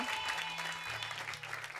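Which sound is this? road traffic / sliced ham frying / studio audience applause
studio audience applause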